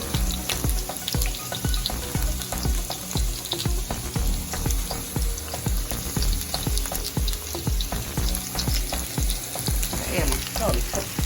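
Onions and green beans sizzle loudly in a hot pan, a dense continuous crackle with rhythmic stirring scrapes throughout, close and steady with no speech.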